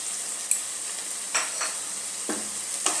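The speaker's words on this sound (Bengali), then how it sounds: "আর ফ্লেমে একটুখানি এটা নাড়াচাড়া করে নেবো" Bottle gourd and prawns with garam masala are stirred in a hot pan: a steady low sizzle with a few distinct scrapes of the spoon.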